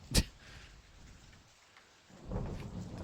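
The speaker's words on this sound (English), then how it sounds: "it's raining." Rain in the Discworld Noir video game, a soft, steady patter opening with a sharp thunder-like crack, then swelling again toward the end, with no voices present.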